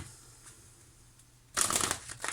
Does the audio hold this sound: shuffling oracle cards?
yes